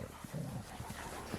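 A dog gives short, quiet barks and whimpers, with a few soft bursts in low steady room noise.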